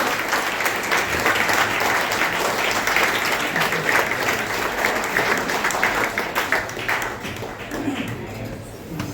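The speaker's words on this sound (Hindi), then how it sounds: "मैं इनसे भी सबसे निवेदन करता हूं कि जोरदार तालियों के साथ स्वागत अभिनंदन किया जाए साहब का" Strong, steady applause greets a guest at a Northern Railway headquarters retirement function in New Delhi; many hands clap in a dense, continuous roar that eases slightly near the end.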